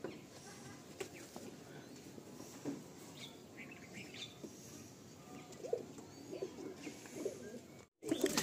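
Madrasi pigeons coo in a loft with chirps scattered through, low throaty calls rising and falling over several seconds close by, a brief dropout near the end, no speech.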